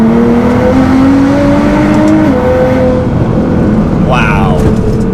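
A Nissan GT-R pulls hard in third gear, its engine note climbing steadily as a loud, close cabin drone, with a brief voice exclamation near the end.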